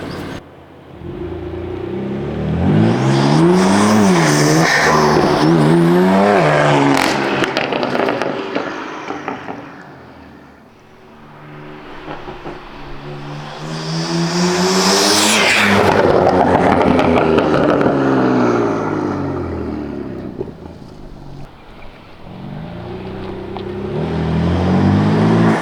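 A BMW M4 fitted with front-mount intakes revs hard twice, each loud engine run rising in pitch through the gears with roaring intake noise, then easing off before climbing again near the end.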